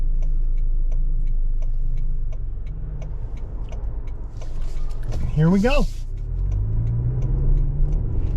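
A 2024 Toyota Grand Highlander Limited 4WD accelerates on the road, its engine a steady low rumble heard from inside the cabin while someone speaks briefly over it.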